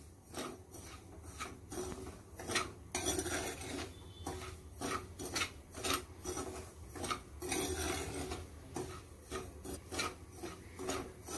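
Semolina dry-roasting for a traditional jaggery and fresh coconut sheera, stirred in a pan with steady raspy scraping strokes and soft grainy rustling, close and continuous, with no talking.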